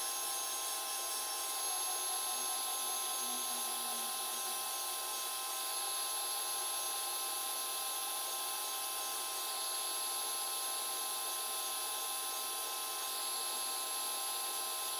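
36W laser engraver cutting at 500 mm per minute, giving off a steady high-pitched whine and hiss with a constant fan-like drone, heard alone without talk throughout.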